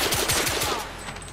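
Automatic gunfire in The Order 1886 hammers out a fast, steady stream of loud close shots, one burst running the whole moment over a dense battle backdrop.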